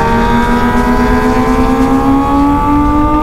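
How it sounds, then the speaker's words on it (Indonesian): High-revving Kawasaki ZX636 and 1000cc sport motorcycles scream along the straight at Mandalika circuit, a loud close engine whine rising steadily in pitch as the bikes accelerate, with no talking. "Aku mendengar suara motor aneh di belakang aku guys."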